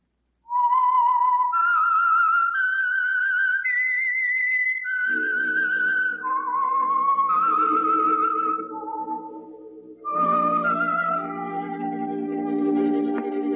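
A clear melodic whistle rises and falls through a short tune, then an orchestra enters underneath, the whistling continuing over the music to the end; the theme of the old radio drama The Whistler.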